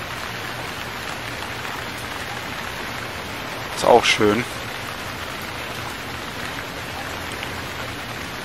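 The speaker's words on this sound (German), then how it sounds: "Ist aber jetzt mit der Regenanimation auch ein bisschen komisch, weil es pisst aus Eimern und du siehst kaum einen Regentropfen." Heavy rain pours as a steady, dense hiss throughout in the survival game Stranded. Someone speaks briefly over it near the middle.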